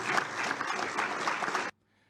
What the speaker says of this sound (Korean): 젤렌스키 우크라이나 대통령 연설에 안보리 이사국들은 박수로 격려했습니다.